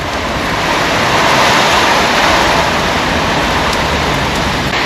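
Rain and wind sweep steadily across an outdoor spot beside a four-wheeler, a dense, loud, unbroken hiss with wind rumbling against the microphone.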